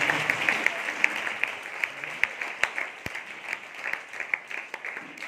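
Audience at a Christmas celebration clapping in a fairly even rhythm, a mid-distance patter of many hands with scattered sharper claps.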